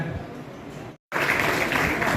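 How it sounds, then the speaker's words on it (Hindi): Lawyers and guests at the Dr. Ambedkar Bar Association oath ceremony in Agra applaud in a steady crowd clap. It cuts out briefly to silence, then returns, fuller and brighter. "जोरदार तालियां बजती रहनी चाहिए जिस तरह वक्ताओं के लिए"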